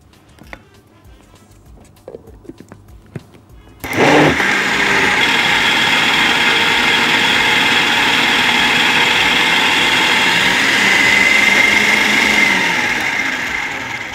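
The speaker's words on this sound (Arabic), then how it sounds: "حس الخلاط بيختلف طبعا." After a few quiet clicks, a blender mixing thickening chocolate spread kicks on loudly and whirs steadily for about ten seconds, its motor tone close and continuous, easing slightly at the end.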